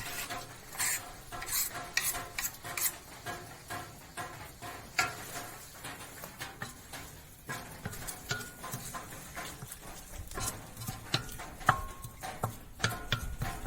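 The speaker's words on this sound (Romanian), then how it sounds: "Și o prăjim la foc mediu." Chopped onion and pork frying over medium heat in a cauldron, with steady sizzling and crackling broken by frequent stirring scrapes and knocks of a utensil against the pot, continuous and close throughout.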